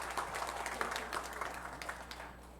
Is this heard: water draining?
no